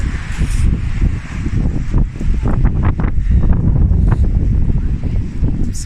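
Strong wind buffeting a microphone outdoors, loud low rumbling gusts that swell and dip continuously, with brief crackly bursts over the roar and no clear talk.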